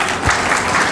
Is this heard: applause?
yes